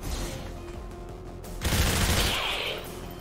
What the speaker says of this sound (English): Well, grazing fire coming in there.